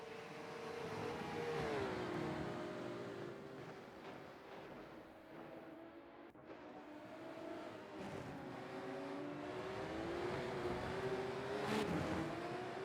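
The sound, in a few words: Porsche 911 GT3 Cup race cars in the video game Rennsport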